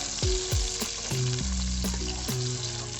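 Garlic fries in a pan with a steady, close hiss of sizzling oil, broken by a few brief scraping and stirring sounds across about three seconds.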